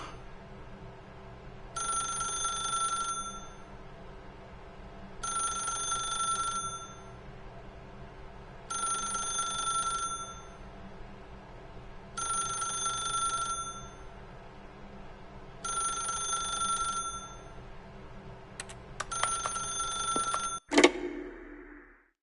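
A telephone ringing in a video game, six evenly spaced bursts of an electronic bell ring separated by short silences, clear and moderately loud, ending with a click as the receiver is picked up.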